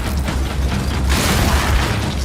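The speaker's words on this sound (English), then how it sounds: "The Nasher is going to get you the most satisfying shots, covering you in blood." Gnasher shotgun fire in the Gears of War E-Day video game, a couple of booming blasts with mechanical clacking and a sharp burst around the middle, heard alone without talk.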